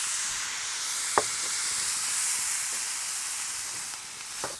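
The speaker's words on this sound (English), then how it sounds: "Add water just to give it a little bit of steam." Water added to a hot pan while catfish stew cooks, giving a steady broad sizzle and hiss of steam with a couple of sharp pops and spatters, close and continuous.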